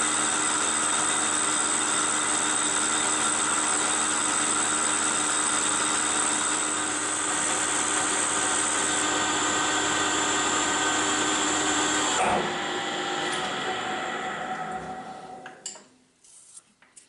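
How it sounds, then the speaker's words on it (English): A lathe cuts splines with a boring bar, a steady mechanical whine and hum with a vibrating buzz that runs continuously, then shifts and winds down near the end. "So let's cut out these splines."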